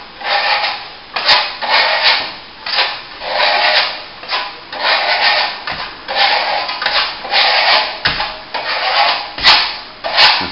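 Plaster top coat being hand-sanded over a plasterboard repair on a wall, producing loud, close, steady rhythmic rubbing strokes with a gritty rasp, continuing without talking.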